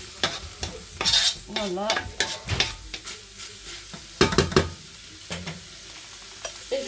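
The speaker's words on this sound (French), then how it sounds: "Un peu de poivre noir, je remue le tout." Bolognese sauce with black pepper is stirred in a frying pan, a spoon scraping and sloshing in uneven strokes over a low sizzle, with a brief spoken word near the end.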